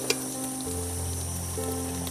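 Ghatkol leaf paste with black pepper sizzles steadily in a pan, a continuous close frying hiss with a faint scrape of stirring at the start and end.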